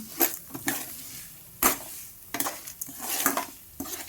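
Curry leaves and cumin seeds stir-fried in a pan, with intermittent bursts of scraping and metallic clinks of a spoon against the pan over a soft, low sizzle, close and fairly quiet, no voices.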